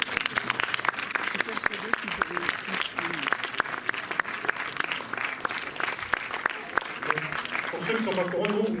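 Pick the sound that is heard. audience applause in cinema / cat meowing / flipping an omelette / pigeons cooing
audience applause in cinema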